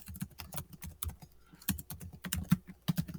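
Rapid, uneven key clicks from someone typing numbers on a computer keyboard, close and fairly quiet, with short pauses between bursts and no talking.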